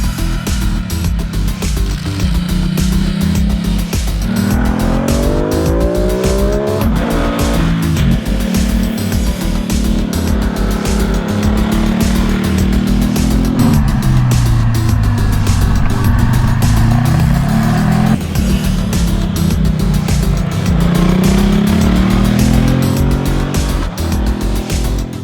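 Ducati Multistrada 950 motorcycle ridden hard through twisty corners, the engine note loud and close as it rises and falls with each gear change over constant wind rush.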